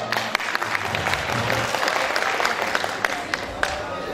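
Audience clapping at a high school tournament trophy ceremony in a youth centre, sustained close applause with sharp individual claps and faint voices underneath.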